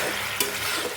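Chilli chicken frying in a pan as salt and sugar are stirred in, a steady close sizzle under brisk scraping of the spatula, with one sharper clink partway through.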